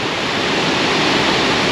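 Aharbal waterfall in Kashmir roars as water flows and plunges over the falls, a loud, dense, unbroken rush heard up close with no voices.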